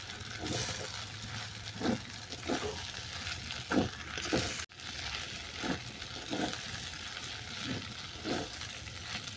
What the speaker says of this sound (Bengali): এই সমস্ত উপকরণ আবারও ভালো করে মিশিয়ে নিচ্ছি।